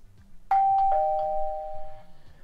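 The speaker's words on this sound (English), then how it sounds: "when someone uses the doorbell" A single doorbell chime plays from a Moteino Pi IoT gateway web interface, with a bright ding followed by a second tone that rings out and fades over a faint background hum.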